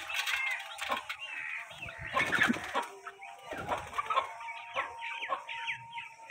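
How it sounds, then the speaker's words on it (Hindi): Aseel chickens cluck and their chicks peep continuously nearby, a busy layered chatter of fowl calls with a faint voice underneath. "असील मुर्गी और ये इसके असील बच्चे हैं।"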